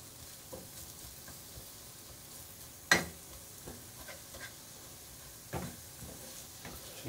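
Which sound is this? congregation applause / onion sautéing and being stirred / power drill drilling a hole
onion sautéing and being stirred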